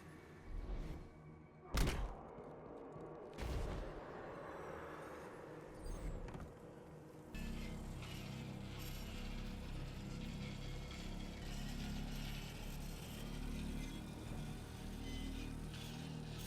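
Mechanical rumble of a small elevator moving through the Necropolis in Destiny 2's Pit of Heresy dungeon, starting with a few separate thumps and clanks, then settling into a steady low grinding hum that runs continuously to the end.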